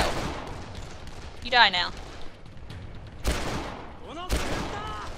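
Gunshots in the video game Dead Island, a few sharp reports spaced out over several seconds, mixed with game sounds and a voice speaking.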